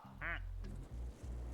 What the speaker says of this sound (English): here we have some of the gamer ducks coming in